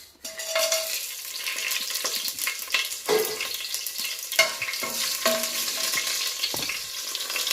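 Garam masala frying in well-heated oil in a pan, a continuous crackling sizzle with occasional scrapes and clinks of a stirring spoon against metal, close and moderately loud.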